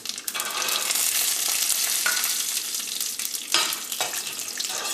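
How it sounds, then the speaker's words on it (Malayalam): Peanuts frying in hot oil with mustard seeds already popped, a steady close sizzle with stirring scrapes throughout and a few louder crackles, no talking. "ഇനി ഇതിലേക്ക് നമുക്ക് പീനട്ട് ഇട്ടിട്ടൊന്ന് വറുക്കാം."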